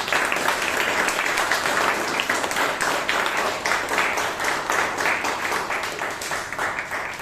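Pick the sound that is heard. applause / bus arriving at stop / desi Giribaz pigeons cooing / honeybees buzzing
applause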